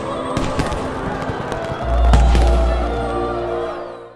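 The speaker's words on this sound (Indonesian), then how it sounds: "Petasan berhamburan di langit membuat suasana semakin meriah" Animated fireworks burst in the sky over a festive Christmas Eve city scene, with a deep booming thud swelling midway and rumbling on beneath crackling, busy mid-range sound.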